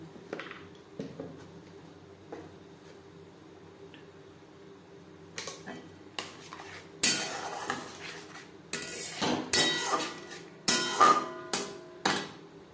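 Ground spices frying and being stirred in a pot for vegetarian Gobindobhog rice khichuri, with quiet kitchen ambience first, then sharp repeated scraping and clinking of a spoon against the metal pot, loud and close.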